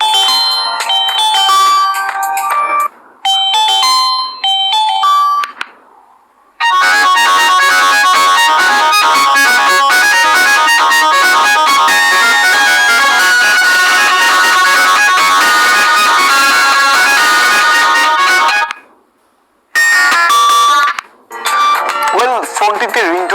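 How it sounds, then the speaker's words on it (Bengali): Ringtone from a Symphony A30 feature phone: a bright, loud electronic melody with short bursts, a brief pause, then a long sustained tune, stopping again before a few final notes. "সো রিংটোনের সাউন্ড কোয়ালিটি টেস্ট করি।"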